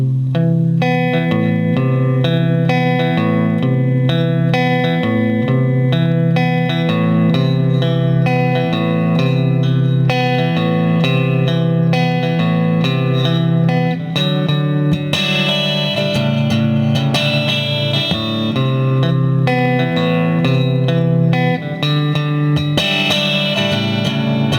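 Electric guitar played in a bluesy style through a Stereo Memory Man with Hazarai delay pedal set lightly, giving a warm, slightly driven tone with soft echo tails, steady and loud with sustained chords and melodic lines throughout.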